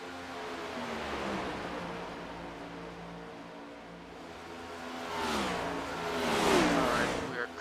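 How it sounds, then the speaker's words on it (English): Next-gen NASCAR race car engines at Charlotte Motor Speedway during a practice session, a steady broadband roar that swells as cars pass, with a rising-then-falling whine near the end, heard from trackside with faint voices underneath. "enjoy the sights and sounds of these very nice sounding next-gen engines."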